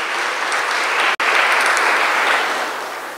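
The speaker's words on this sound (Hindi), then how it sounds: "अभी जोर से ताली बजाओ।" Loud clapping from an audience gathered for a Sunday spiritual talk, a dense continuous roar of hands with one brief sharp dropout partway through, then fading slightly toward the end.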